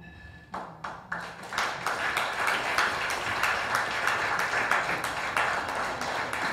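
Audience applause at a Korea–Kyrgyzstan exchange cooperation committee seventh-anniversary ceremony, starting with a few scattered claps and swelling into sustained, dense clapping from a crowd in a hall.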